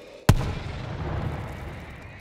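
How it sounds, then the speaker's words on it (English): A grenade explodes in a tavern in the zombie shooter World War Z: one sharp, loud blast, then a long rumbling tail that slowly fades away. "Throwing a grenade!"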